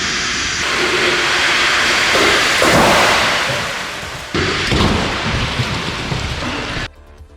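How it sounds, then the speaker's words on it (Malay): A Nissan Kicks in an ASEAN NCAP crash test hits a block at 64 km/h: a loud, sustained rushing hiss swells, then a sudden heavy impact burst lands midway, and the noise cuts off abruptly at the end. "pada kelajuan 64 km sejam sebelum ia merempuh blok tadi itu"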